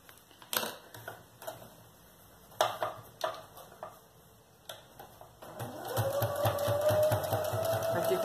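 A sewing machine stitches a child's backpack strap, beginning with a few short separate clicks and taps, then settling into a steady continuous whir of rapid stitching for the final seconds, close and clear.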